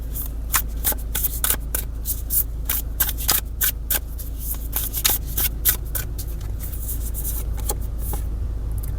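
A deck of tarot cards shuffled by hand close up, a steady run of quick papery riffles and soft slaps that continues for the whole stretch with no talking.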